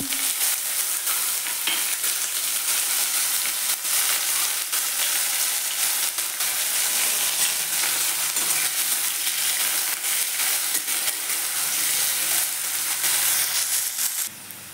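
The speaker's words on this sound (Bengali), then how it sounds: "পেঁয়াজ আমার ভাজা হয়ে গেছে।" Chopped onion fries in oil with a loud, steady hissing sizzle throughout, and faint stirring sounds drift in and out.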